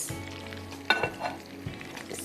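Afghani-style chops fry in a single layer of oil with a soft, steady sizzle, punctuated by a metallic clink of utensils against the pan; close and fairly quiet, with no talking.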